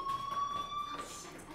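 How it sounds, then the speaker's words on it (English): A steady electronic fire alarm tone rings inside the video game Life is Strange, holding one high pitch with faint harmonics for the whole stretch at moderate loudness, with a soft background murmur beneath it. "Hey, do you hear that fire alarm?"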